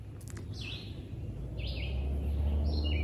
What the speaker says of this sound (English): Here we have the singing of a red-eyed vireo, one of the most common birds that we have in the woods here